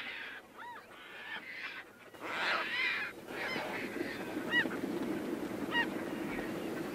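A Caspian tern colony in the Selenga delta lifts off and circles, harsh rasping calls ringing out one after another over a rushing background of wings and distant birds.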